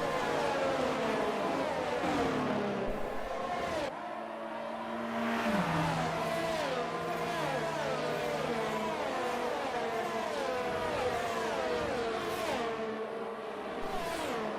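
Engine whine of F1 racing cars from the video game F1 22, bunched behind the safety car at a Saudi Arabia round, with overlapping pitched drones rising and falling continuously and fairly loud throughout.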